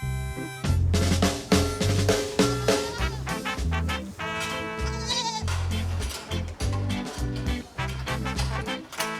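Sheep on a Vercors mountain farm bleat together in an overlapping chorus of wavering calls, loud and close, with steady layered voices and no talk.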